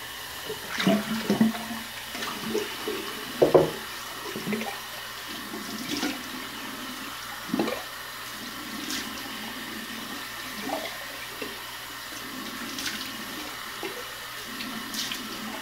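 Cold water runs from a tap in a steady, fairly quiet stream, with a few clinks and splashes scattered throughout.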